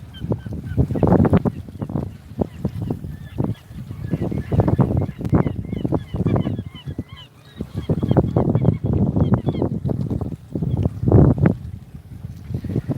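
A crowd of birds honking loudly and continuously close to a boat at sea off Fukushima, overlapping calls in a noisy, chattering chorus.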